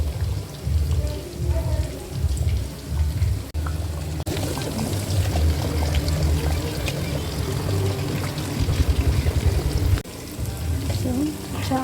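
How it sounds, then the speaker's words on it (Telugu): Fish heads are dropped into a simmering fish pulusu curry, making wet splashing and pouring sounds. A bubbling, rain-like patter follows at close range, with pauses and shifts in the texture. "సో ఇప్పుడు చేప తలకాయ అయితే పులుసులో వేసేద్దాము."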